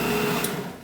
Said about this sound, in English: We're going to give this a very light blending.